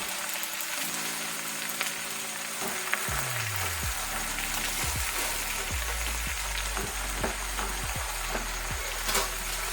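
Amaranth leaves (thotakura) fry in a pan with a constant, crackling sizzle, broken by repeated scraping stirs and backed by a low steady hum throughout.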